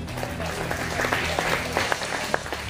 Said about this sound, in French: mais on peut l'applaudir